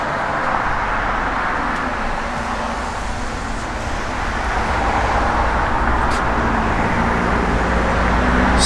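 A 1963 Oldsmobile Dynamic 88 driving, with a steady, broad road and engine rumble that holds even and moderately loud throughout, without any talking.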